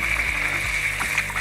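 Steady running water poured into a pan of quail egg gravy, a continuous pour or trickle with a bright hiss, with faint clinks and soft knocks underneath.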